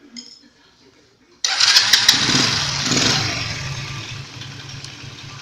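Small 139F single-cylinder engine during carburettor adjustment, starting abruptly after quiet and then running loud and close at a steady, slightly easing idle.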